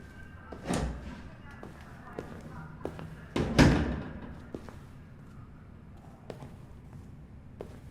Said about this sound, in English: Close the door on your way out.